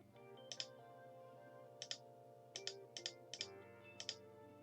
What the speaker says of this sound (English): Oh god, you can hear the mouse clicks even more.